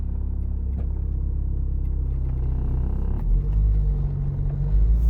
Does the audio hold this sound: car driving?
yes